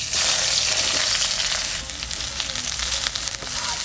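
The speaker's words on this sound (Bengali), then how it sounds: "তেলের উপর পেঁয়াজ কুচি দেবো," Chopped onion frying in hot oil gives a steady, loud, close sizzle with a dense hiss that runs unbroken for a few seconds, with no voices.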